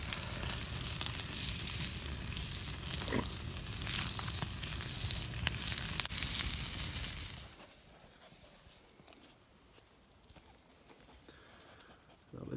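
Steaks sizzle over an open campfire at a bushcraft camp, a loud, dense crackling fry for about seven seconds before dropping to a faint crackle and quiet.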